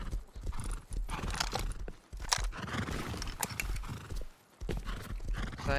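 Horses in the Rust video game move nearby, with a run of quick clip-clop hoofbeats, occasional whinnies and mechanical clatter, and short gaps between bursts.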